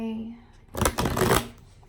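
Tarot deck shuffled in one close, loud riffling burst lasting under a second, with a voice just before and after.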